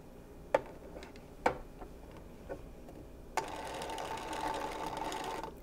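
A Juki HZL-27Z sewing machine gives a few sharp mechanical clicks, then runs in a steady, continuous whirring stitch for the last couple of seconds, close and with no talking.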